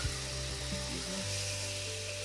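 A salmon fillet sizzles steadily in a hot pan as it is flipped, a continuous close frying hiss with a brief shift in tone at the turn, over a faint low hum.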